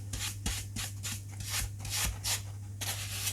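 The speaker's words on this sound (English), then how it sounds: "I'm going to give a sand in between coats" Steady back-and-forth strokes of sandpaper rasp over thin balsa wood, sanding between coats of shrinking dope on a Kavan Uhu/Falke model aircraft; close, rhythmic rubbing over a low steady hum.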